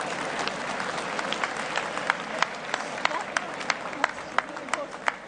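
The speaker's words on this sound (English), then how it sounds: "Champion as well, getting a very good sporting round of applause from the crowd." A boxing crowd gives sporting applause after a fight, steady clapping with sharp individual claps standing out, heard at moderate distance while a commentator talks over it.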